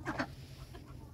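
Chickens cluck softly as they scratch and scatter bedding around a freshly cleaned coop; two brief close clucks sound at the start, then a low murmur of fowl continues.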